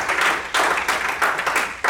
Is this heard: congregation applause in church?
yes